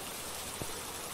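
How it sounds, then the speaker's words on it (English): Steady rain falls in the Phasmophobia video game, a continuous broadband hiss with no pauses. A faint soft tap lands partway through. "Ooh, it's raining like a bitch."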